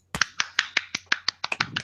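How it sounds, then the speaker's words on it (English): Hand claps, about eleven sharp claps in a quick, slightly uneven rhythm, close and fairly loud, with no talking. "where all we do is clap."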